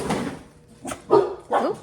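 Several house dogs let out a few sharp barks and yips in quick bursts at close range indoors. The barks come in uneven spurts with short pauses between them, and no one speaks.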